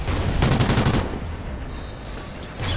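A Vector submachine gun fires in Call of Duty: Ghosts, a loud, close, rapid burst of automatic shots that cuts off after a second, followed by quieter in-game ambience and a brief return of noise at the end.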